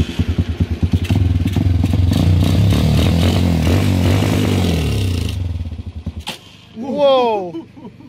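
Small engine running unevenly on homemade olive-oil fuel, its rough, lumpy idle surging and sputtering with unstable revs for several seconds before cutting out, followed by a brief rising rev; someone talks over it.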